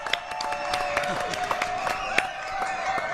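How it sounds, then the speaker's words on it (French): A studio audience on a French TV talk show applauds in a moderate, steady patter of claps, with a sustained tone and some voices mixed in. "Applaudissements"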